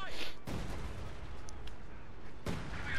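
Booming artillery impacts in a competitive shooter match, a heavy burst at the start and another near the end, with scattered distant gunfire and a commentator talking between them.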